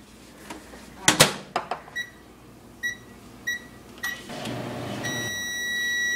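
A microwave oven runs while melting chocolate, with a few sharp door and button clicks, a low hum starting partway through and a bright steady beep ringing out at the end.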